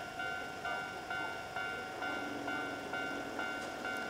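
A train passes along a Tokyo street, a steady rumbling roll with regular clacking beats about every half second at moderate distance, and no voices.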